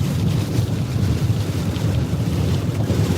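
Hurricane-force wind from Hurricane Delta buffets a vehicle crossing a high bridge over a canal, a steady, loud low roar of gusts and rumble with no break and no talking.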